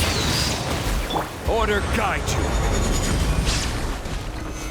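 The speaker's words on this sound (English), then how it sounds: "Here come the fireworks!" Booming, crackling bursts of a fireworks-style skill effect in Genshin Impact PC gameplay, a dense rumbling blast bed running the whole stretch while a character voice speaks over it.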